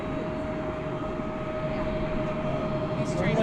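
A UPS Boeing 747 cargo jet at DFW airport at night gives off a steady engine drone with a sustained whine, heard at a distance over low background noise.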